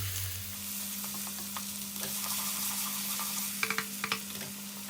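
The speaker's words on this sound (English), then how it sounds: "Now adding diced onions. This is 1 onion cut up into diced small pieces." Diced onion, one whole onion cut small, frying in a pan for a kidney bean rajma curry, giving a steady close sizzle with a low hum beneath and a few sharp scraping stirs near the end.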